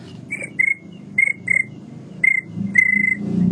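A voice imitates a cricket with short, high whistled chirps in irregular bursts, close by, over a low background murmur.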